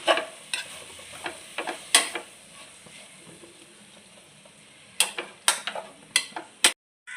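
Chicken and cooked rice stir-fried together in a pan, a faint steady sizzle broken by bursts of sharp spatula scrapes and taps on the metal, close up, without speech.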